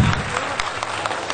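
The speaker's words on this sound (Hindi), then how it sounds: "उनके लिए हम एक जोरदार ताली चाहेंगे" Applause from an audience at a Vestige marketing event, a steady dense wash of clapping filling the whole moment at moderate loudness, with no voices standing out.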